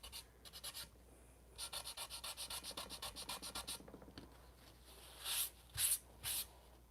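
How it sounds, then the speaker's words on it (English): Hand sanding of a Dollar Tree turntable, a quick series of soft rhythmic rubbing strokes up close, followed after a pause by three louder, longer scratchy passes. "Let's give it a little sand in here."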